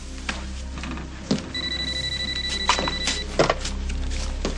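A telephone bell rings in an indoor scene, a bright sustained trill repeating over faint background clatter and movement, with no one speaking.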